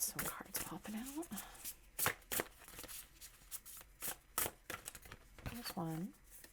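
Tarot cards being shuffled by hand, a string of sharp papery riffles and slaps in irregular bursts, close and crisp, with a few faint vocal sounds between them.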